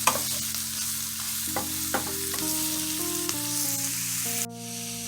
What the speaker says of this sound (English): my sausage in, and we're just going to mix that around